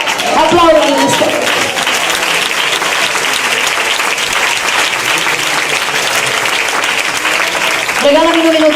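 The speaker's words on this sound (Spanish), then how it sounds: "Aplaudan en este." An audience at a church service applauds loudly and steadily for several seconds, with dense, continuous clapping and a voice speaking briefly at the start and end.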